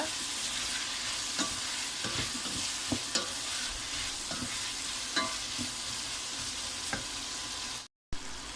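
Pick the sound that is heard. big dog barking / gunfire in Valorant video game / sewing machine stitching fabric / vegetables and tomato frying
vegetables and tomato frying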